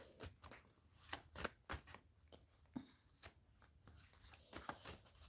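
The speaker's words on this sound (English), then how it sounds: "Let me stop shuffling before I be here all day" Tarot cards are shuffled by hand in repeated quick riffling bursts with short pauses between them. The sound is quiet and close, and there is no talking.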